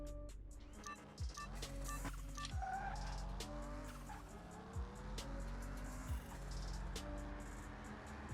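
A V8 Mustang races a quarter mile in Car Mechanic Simulator 2021, its engine roaring loud and close as it climbs in pitch and drops with each gear shift. Tire squeal runs under the steady drone.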